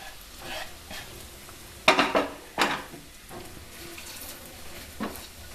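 Small bread pieces are stirred and toasted in ghee in a pan for bread halwa, giving a soft frying hiss with a few louder scraping stirs near the middle and one more toward the end.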